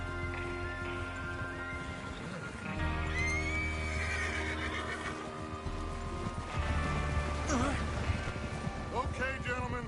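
Horses in Red Dead Redemption 2 whinny and snort over steady clip-clopping hooves, with several animals close by and gang members talking over the commotion.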